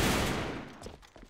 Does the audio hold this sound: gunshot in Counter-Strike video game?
yes